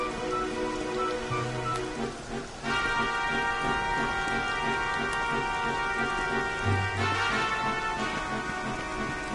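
Rain in the video game Dragon Quest XI pours steadily as a dense hiss under gentle game music, with soft chiming tones layered over it.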